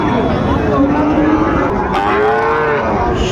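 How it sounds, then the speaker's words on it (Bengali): Sahiwal cattle moo at a busy livestock market, with drawn-out lowing calls close by over a constant crowd murmur and talk. "শাহিওয়ালের বাচ্চা।"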